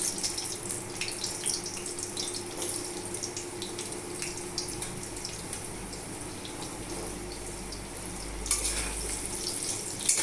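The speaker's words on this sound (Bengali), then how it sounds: "এবার ওই তেলে আলুটা ভেজে নেব।" Potatoes fry in the same oil used earlier for rohu fish, making a continuous, soft hiss and sizzle that stays fairly even, with no talking.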